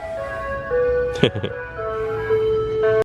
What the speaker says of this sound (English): Ice Cream Man is here.